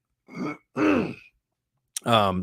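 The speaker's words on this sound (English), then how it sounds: "if I got to clear my throat a few times" Someone clears their throat several times in short bursts, close and fairly loud, with a brief voiced sound at the end; the person has a cold.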